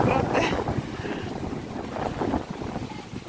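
Gusty wind buffeting the microphone, a low continuous roar that swells and dips over a few seconds, with no clear talk.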